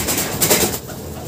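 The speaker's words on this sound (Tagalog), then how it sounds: "Ibon na yan." Pigeons in a racing pigeon loft give a brief, close, throaty coo over a broad, rough background noise, lasting about a second.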